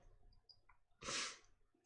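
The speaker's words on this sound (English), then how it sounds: "Gotta sneeze." A single sharp sneeze bursts out, close and loud, after a brief quiet intake of breath.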